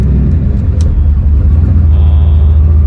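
A turbocharged Foxbody Mustang sleeper with a 306 engine, aftermarket rods, pistons and crank, idles and revs at close range with a loud, steady low rumble.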